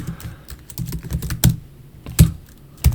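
Code being typed on a computer keyboard: irregular clicking keystrokes close by, with a few louder, sharper key presses standing out, no voices.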